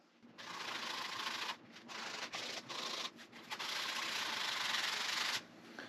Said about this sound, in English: I'm going to start with the sanding block